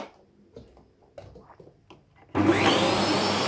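A vacuum cleaner switches on partway through with a loud, steady roar and rising whine, after a few soft handling knocks and rustles.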